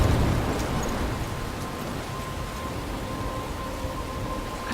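A storm in the video game Life is Strange, dense steady rain hiss with low rumbling underneath, loud at the start and then holding even, with no talk.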